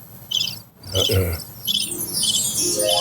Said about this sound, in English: And the crickets.